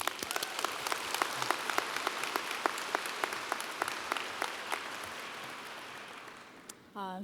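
An audience at a college Fall Preview Day for the College of Liberal Arts and Sciences breaks into steady, sustained applause welcoming a speaker to the stage. Dense clapping fills the room and tapers off near the end, with a brief sharp noise just before it stops.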